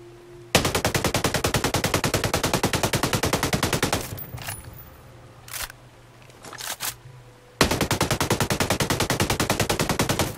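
Rapid automatic gunfire from the Ghost Recon Breakpoint video game: two long, loud bursts of evenly spaced shots with a quieter stretch of scattered single reports between them.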